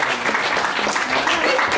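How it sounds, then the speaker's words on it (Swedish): A crowd at an outdoor youth scooter competition applauds rider Hugo during the prize announcement, a thick, continuous wash of clapping at full volume throughout the short stretch, with a faint murmur of voices mixed in. "Så stor applåd för Hugo"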